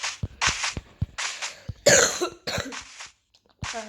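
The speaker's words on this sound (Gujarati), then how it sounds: "શાયદ ઉધરસ" A run of harsh, repeated coughs in quick bursts, close to the microphone, with brief pauses between fits.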